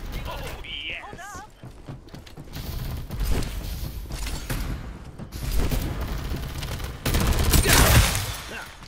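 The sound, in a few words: gunfire in video game Farlight 84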